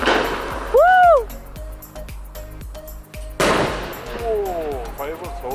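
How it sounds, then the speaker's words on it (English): Fireworks burst over a city during Hari Raya celebrations in Sarajevo, with sharp loud bangs and crackling pops echoing between buildings, accompanied by whistling rises and excited voices and cheering. "오, fireworks."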